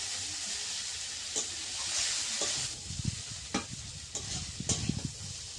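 Food frying in a pan is stirred, a constant hiss of sizzling oil broken by repeated scraping and clacking strokes of the spoon, close up.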